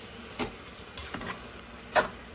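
Spaghetti tossed in a pan with vegan mince and a blob of olive oil margarine: a few distinct clinking, scraping tosses over a faint sizzle, close but quiet, no voices.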